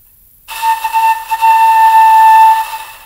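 A flute played with a breathy, blocked air tone: a rush of airy hiss with a thin whistling pitch wavering over it, then steadying into a sustained, close note that fades out after about two and a half seconds.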